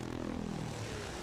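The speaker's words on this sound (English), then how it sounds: "That sound. This is the F-35 of helicopters." An RAH-66 Comanche stealth helicopter flies past as a brief, steady rotor-and-turbine roar, loud and continuous with no voices.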